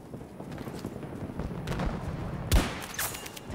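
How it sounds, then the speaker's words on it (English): Gunfire in Battlefield 2042, a sharp, loud shot standing out near the end over a dense background of distant battle rumble and scattered firing. "I just sniped."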